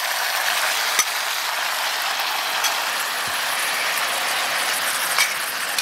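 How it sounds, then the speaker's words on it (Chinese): Marinated chicken hits hot oil already fragrant with ginger, garlic, dried chilies, Sichuan peppercorns, star anise and bay leaves, giving a loud, steady sizzling hiss with a few faint clicks of stirring. "全部炒香以后，倒入腌好的鸡肉"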